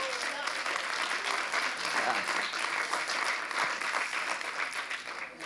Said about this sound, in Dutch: Een applaus voor jullie zelf.